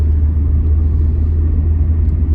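A car engine runs steadily while driving, a constant low rumble with road noise filling the cabin throughout, with no voices over it.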